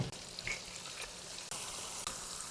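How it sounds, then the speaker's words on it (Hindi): Chicken pieces fry in hot oil, a faint, steady sizzle with a few soft clicks and knocks from the pan, alone and without talk. "मैंने ऑयल को पहले हल्का सा गर्म होने देना है, उसके बाद हमने इसको ऐड कर देना है इन चिकन पीसीस को"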